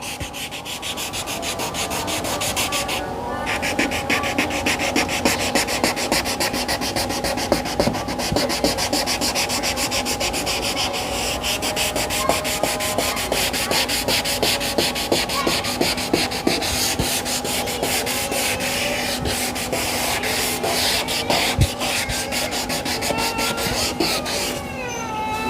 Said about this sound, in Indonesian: kita bisa mengulanginya sekali lagi menggunakan amplas